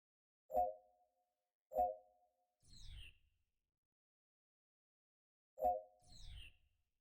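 Three short tonal blips followed by a soft swooshing chirp, then silence and another blip-and-chirp pair; small, clean electronic object-placing sounds from MMORPG Tycoon 2, with no talking.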